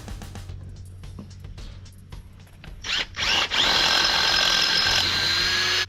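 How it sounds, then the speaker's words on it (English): A power drill bores a hole into a car's coolant reservoir tank during an aftermarket dual reservoir install in a garage. Short clicks and handling noises come first, then the drill whines loudly and steadily for about three seconds. "drill another hole in this reservoir tank right here so that I can get it mounted"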